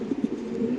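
Pigeons at a fancy pigeon farm give a brief low cooing, a few soft rolling coos close by, with no talk over them.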